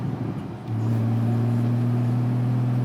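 A Porsche Cayman GTS engine gives a raw, steady low drone that settles into a firmer, constant hum after a brief rougher start.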